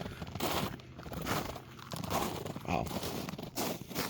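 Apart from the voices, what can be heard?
footsteps crunching on frozen snow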